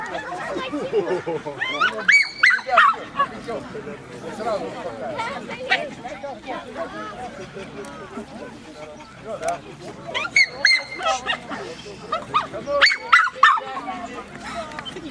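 Several hunting dogs bark and yip in bursts at a dog show, some close and loud, over a busy crowd murmur and scattered chatter.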